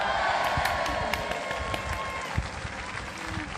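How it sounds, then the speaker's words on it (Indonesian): A crowd breaks into steady, dense applause that carries loud and unbroken for a few seconds, with a faint background murmur beneath the clapping. "Tepuk tangan."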